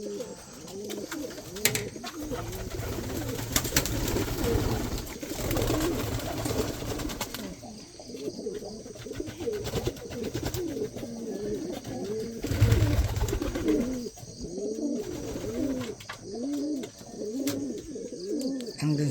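Homing pigeons coo continuously inside a breeding loft, a dense chorus of overlapping rolling coos repeating throughout, close and steady with no talking.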